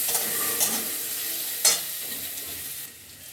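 Potatoes fry and sizzle in a pan with a steady hiss and a few sharp stirring scrapes, one louder clatter standing out midway, no voices.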